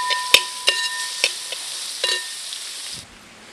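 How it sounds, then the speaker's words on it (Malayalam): Shallots and green chillies sauté in a hot pan with a steady sizzling hiss, while a utensil clinks and scrapes against the metal about five times before the frying fades near the end. "നേരത്തെ എടുത്ത് വെച്ച പച്ചമുളകും കൂടി അതിലേക്ക് ഇട്ട് കൊടുക്കുക എന്നിട്ട് നന്നായിട്ട് വഴറ്റിയെടുക്കുക"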